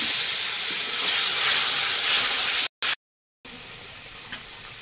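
Black cumin seeds and bay leaves sizzle loudly in hot oil, a dense steady hiss that cuts out abruptly for a moment, then resumes more softly.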